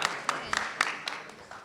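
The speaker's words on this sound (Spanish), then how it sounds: "Un aplauso para el grupo, por favor." A few people in a webinar clap for a group, sparse separate hand claps spaced irregularly over under two seconds, fairly faint and close to the microphone, with quiet room noise behind them.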